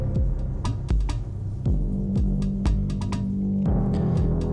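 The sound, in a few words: shifted sequence playing on Elektron Octatrack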